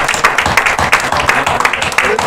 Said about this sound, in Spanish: Vamos a darle un aplauso a este muchacho que se reconcilió con Dios.